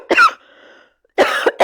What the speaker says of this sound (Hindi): अब मुझे खांसी आ गया